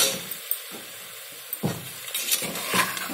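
Chicken frying with ginger garlic paste in a pan for a spicy chicken sambar, soft sizzle broken by intermittent scraping and stirring clatter, close and moderately quiet.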